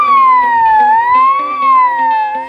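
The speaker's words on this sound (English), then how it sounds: "There's even a siren button." A wailing electronic siren from an AmpliVox SW314 wireless PA system with four horn speakers, rising and falling in slow sweeps, loud and steady, with no voices.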